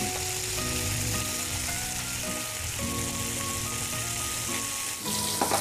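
Pork frying in boiling cooking oil, a dense steady sizzle and crackle heard close up, loud and continuous throughout with a steady musical tone playing underneath, no talking.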